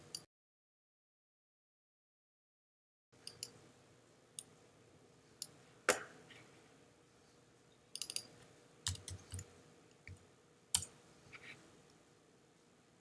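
Computer mouse clicking while paths are edited in Photoshop: a few sparse, crisp clicks scattered irregularly after a brief silence, close and fairly quiet.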